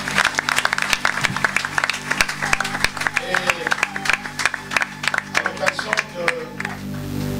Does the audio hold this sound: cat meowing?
no